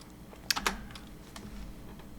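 A Linux command is typed on a computer keyboard: a few quiet, close keystrokes, with a quick pair of clicks followed by softer taps against a faint background hum.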